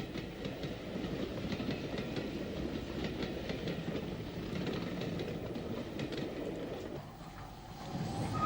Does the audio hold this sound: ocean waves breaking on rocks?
no